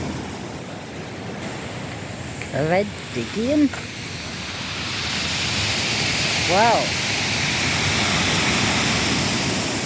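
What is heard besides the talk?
sea waves splashing over Aberystwyth promenade at night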